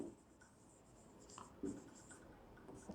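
Marker or chalk writing on a board in a chemistry lecture on solid-state voids, faint scratchy strokes and taps in short bursts, close and quiet with no talking.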